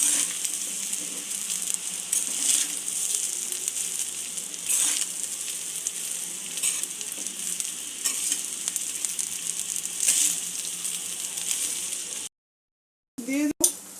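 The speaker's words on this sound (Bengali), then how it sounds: "একটা একটা করে উপকরণ দিয়ে ভাতটাকে নাড়াচাড়া করে দেব।" Rice with vegetables being stirred in a pan for Bengali-style veg pulao, a steady close sizzle with soft scraping strokes that continues throughout before cutting out near the end.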